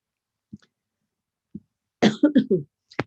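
A person coughs: two soft isolated coughs are followed by a louder cluster of several harsh coughs and a final short one, close and alone with no speech.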